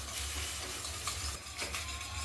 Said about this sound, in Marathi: आता आपण हे ज्वारीचं पीठ याच्यामध्ये हटून घेणार आहोत